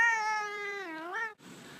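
A cat gives one long, clear meow that bends down and then back up in pitch before cutting off, close and distinct, followed by faint background noise.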